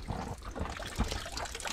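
Water trickles at a small spring on the Peb Fort trek near Neral, a faint, steady dribble heard alone with no talk.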